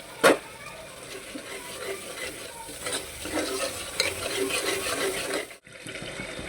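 Masala spices cooking and being stirred in a pan for haleem, a steady sizzle with scraping stirs and a sharp clank at the start, close and continuous before it cuts off.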